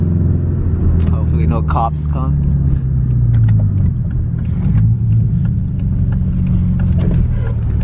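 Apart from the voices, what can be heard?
Subaru Impreza 2.5 RS with muffler delete doing a donut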